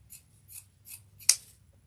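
Scissors snip through pink ostrich feather trim for a pumpkin grapevine wreath, three light cuts in a steady rhythm followed by one sharper, louder snip, close and with no talk.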